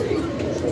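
Domestic pigeons, one white and one black, cooing softly in a low, steady murmur, with a little background noise and no clear speech.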